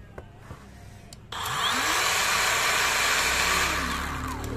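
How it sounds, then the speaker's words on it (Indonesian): A cordless battery circular saw with a brushless motor spins up after a click and runs at high speed, giving a smooth, steady whine that holds loud and close to the end. "ini untuk hasil suara halus sekali ya teman-teman, halus sekali ya, namanya brushless motor, halus, lembut, dan bertenaga, RPM tinggi"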